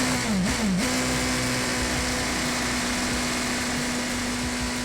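F3 race cars pull away from the start line in a steady, loud engine drone with a sustained high-pitched tone that briefly dips and wavers near the beginning, then holds level throughout.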